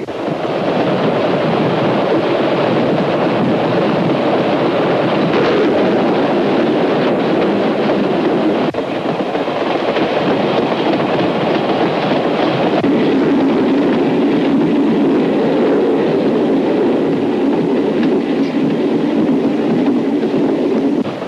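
The continuous rumble and rattle of a train rolling along the rails, steady and loud, with no talking throughout.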